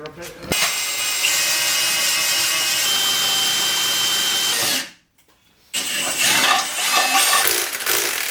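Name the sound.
drilling a hole in metal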